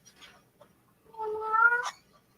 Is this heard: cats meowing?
yes